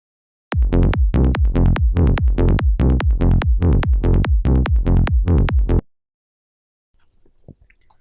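Psytrance synth bassline softened by saturator soft clipping, rolling in a fast, even run of about a dozen punchy notes. It plays alone and loud, then stops abruptly, leaving faint background noise.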